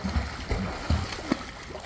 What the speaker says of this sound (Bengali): তোমরা বলো ঠিক আছে আমি কেমন সাঁতার কাটছি